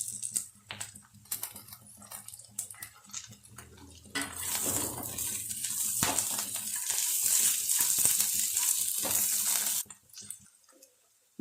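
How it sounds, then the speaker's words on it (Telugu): Fried ivy gourd with curry leaves and peanuts is stirred in a pan, starting with scattered clicks and scrapes of a spatula, then giving way to a loud, steady sizzle that cuts off near the end. "ఇప్పుడు ముందుగా వేయించుకున్న కరివేపాకు, వేరుశనగపప్పు అవి వేసి కూడా కొంచెం ఫ్రై చేసుకుందాము"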